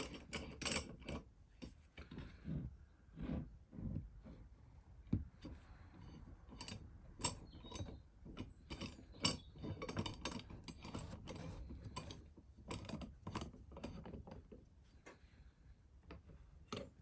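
Repeated sharp clicks and ratcheting taps from clamps being tightened on a guitar neck template in a woodworking shop, irregular and close, spread across the whole stretch.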